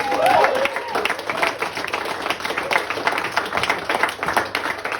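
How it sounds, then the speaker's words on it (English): A comedy club audience claps and cheers for a stand-up comedian finishing his set, a dense, sustained wash of applause close up, with a host's voice briefly audible over it at the start. "Give him a round of applause"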